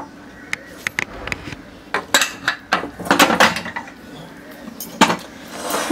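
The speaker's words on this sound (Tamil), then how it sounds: "சும்மா கொஞ்சம் ஸ்லைட்டாக ஒரு கடை கடைஞ்சிட்டு" Pressure-cooked dal being mashed in a pot for paruppu kulambu, with a run of metallic scraping and clinking strokes of a ladle against the vessel, starting sparse and growing busier, close and fairly loud with no talk.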